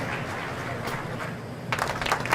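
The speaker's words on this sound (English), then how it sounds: "Thank you for the applause." An audience bursts into applause after a stretch of low background noise, the clapping starting abruptly near the end and growing louder.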